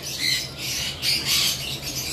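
Pet birds at a bird farm, including albino birds, give loud repeated raspy squawks in overlapping bursts close by, with no talking.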